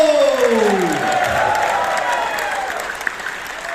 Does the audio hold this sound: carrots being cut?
no